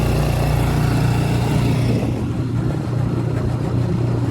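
A Suzuki DF6A 6 hp four-stroke outboard motor pushes a boat along at speed, giving a steady, continuous droning hum with a low throb that stays even and close throughout, no voices over it.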